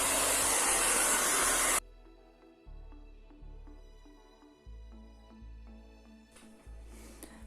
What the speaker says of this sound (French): Et je sèche au sèche-cheveux.